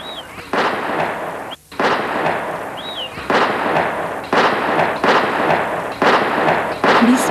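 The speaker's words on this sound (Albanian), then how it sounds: "Krisme pa fund mbuloi natën e 12 marsit. Plumba pa mbarim gërvishtin qiellin" Gunfire during the March 1997 unrest in Pogradec, Albania: repeated loud shots ring out at night at irregular intervals, some sharp and close, set against a steady noisy background.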